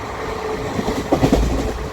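A passenger train rushes along at speed, a steady roar of wheels on rails with a few clattering clicks over the joints, heard from inside.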